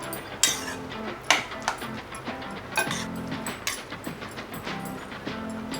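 Mashed potato being stirred into a rava poori mixture in a pot, with a series of close metallic clinks and scrapes of the spoon against the vessel at an uneven pace.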